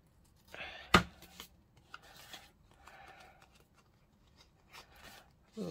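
Scissors snip through paper scraps in a few quiet, close cuts, with one sharp clack and soft rustling of paper between them.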